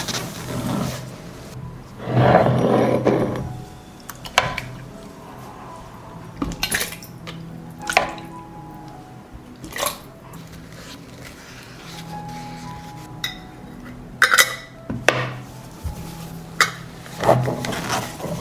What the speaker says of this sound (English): I immediately close with lids that I sterilized in boiling water for 10 minutes.